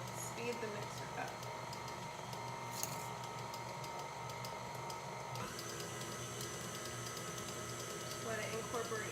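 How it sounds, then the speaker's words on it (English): An electric stand mixer whirs steadily while it mixes Christmas cookie dough, a continuous mechanical hum with faint rattling. A person talks intermittently over it. "I'm probably going to have to speed the mixer up."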